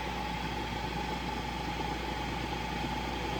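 1962 Triumph TR4 engine running steadily in fourth gear around 1500 rpm, a constant close hum and vibration with no variation over a few seconds.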